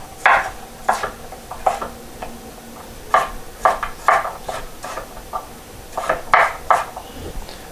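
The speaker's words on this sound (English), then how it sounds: "I'm just roughly chopping up these potatoes" Potatoes are roughly chopped with a knife on a board for a Jamaican curry rabbit, giving a series of crisp, irregular thuds close by with short pauses between bursts.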